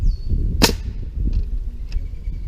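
A nail gun fires once with a sharp, loud crack while a compost bin is being built, followed by faint tapping and knocks against low background rumble.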